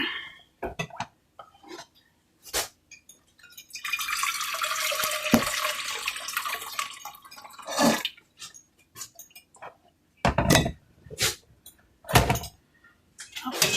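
Warm water pours and splashes into a kitchen container, a sustained broadband rush lasting a few seconds amid scattered clinks, knocks and handling noises while cooking pizza and brownies.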